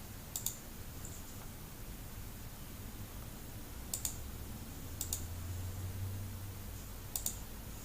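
Computer mouse and keyboard clicks come in sparse, crisp pairs and single taps over a low hum, quiet and close, while a calendar event title is entered.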